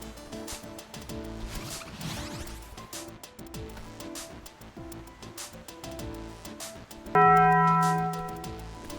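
Bells chime in a video game (Celeste), a cluster of bright tones that rings out loudly near the end over a dense, busy background of game music and effects.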